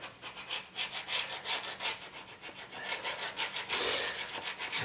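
A hand scraper drags across a linoleum floor in repeated rhythmic back-and-forth strokes, close and raspy, with one harder, louder pass near the end and no talking.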